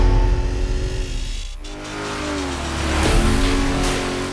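A 1988 Holden Commodore VL engine revs hard, its note rising and falling through a couple of throttle blips, loud and close with no talk.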